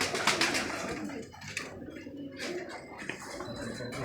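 Pigeons perched in a breeders' loft coo softly and repeatedly against a steady background of rustling and ambient noise, with no talk over them.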